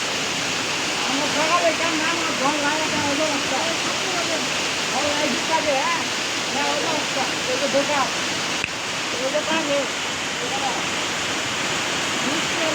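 A steady, broad rush of floodwater pours continuously past Balla Bazar library, loud and close, with faint voices underneath.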